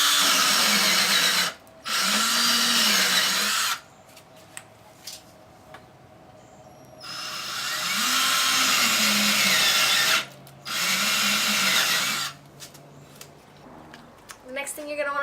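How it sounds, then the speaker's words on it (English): A power drill boring pilot holes in wood for lag bolts that attach a 4x4 support to a bench, running in four loud bursts of about two to three seconds each, separated by quieter gaps with faint background noise. "drill your pilot holes so that keeps your wood from cracking when you screw in your lag bolts"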